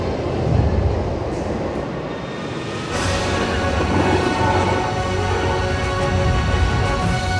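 Steady rushing rumble heard from a seat inside a high-speed bullet train in motion, a broad continuous roar that swells louder partway through and stays even to the end.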